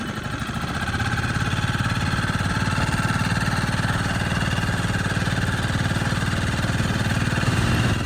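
Outboard motor on an inflatable Seapro fishing boat running steadily near the shore, a loud continuous engine drone with a fast pulsing rhythm, close up and without talk.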